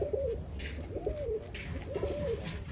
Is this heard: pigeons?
yes